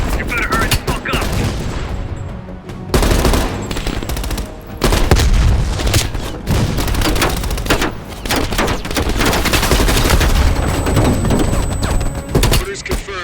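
A heavy machine gun on a ridge fires in the Call of Duty Cold War endgame, with loud sustained bursts and booming impacts broken by short gaps. Battle noise fills the scene.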